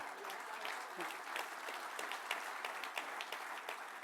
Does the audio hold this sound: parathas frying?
no